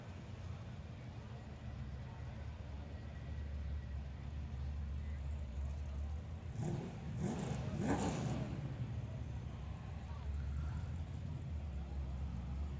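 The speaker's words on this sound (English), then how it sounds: "Certainly a good-looking wagon, that Valiant. And sounding tough as he lines up." A Chrysler Valiant wagon idles at a drag strip starting line, with a low, rumbling engine and a brief swell of revving in the middle, under a commentator's voice.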